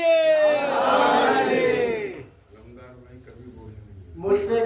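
At a celebration for Imam Hussain and Mola Abbas in a colony gathering, a large crowd roars a loud, sustained chanted reply to the Naara-e-Haidari slogan, then fades before another burst of shouting rises.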